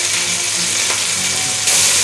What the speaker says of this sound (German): das ganze dauert jetzt hier etwa 4-5 Minuten, dass ich das anbrate